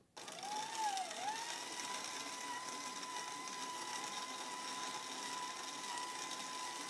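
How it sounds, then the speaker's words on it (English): A KitchenAid stand mixer fitted with a grain mill attachment grinds wheat berries into flour, giving a loud, steady motor whine with a sustained tone that dips briefly at start-up, continuous and alone. "Then we're going to turn on our KitchenAid mixer and just follow the directions"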